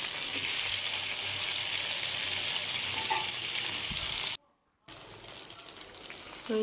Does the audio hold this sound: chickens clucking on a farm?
no